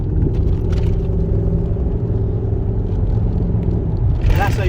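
A Dodge Charger V8 Hemi police car on UK streets, a loud, close, steady low engine rumble throughout, with a brief scraping burst near the end.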